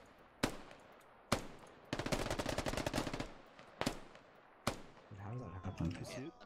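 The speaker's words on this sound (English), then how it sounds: "I'm shooting at him." Gunfire in the tactical shooter game SquadOps: single sharp shots, a dense automatic burst, then two more isolated shots, with a voice talking near the end.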